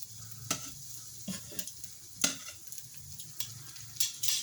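Spam, eggs and vegetables fry in an electric skillet with a quiet steady sizzle, punctuated by several sharp spatula scrapes and taps at irregular intervals, close and solitary with no talking.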